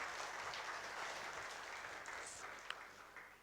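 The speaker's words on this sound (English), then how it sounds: "Clap, please." Audience applause after a spiritual self-talk lecture, a steady wash of many hands clapping at low level and fading slightly toward the end, with no voices over it.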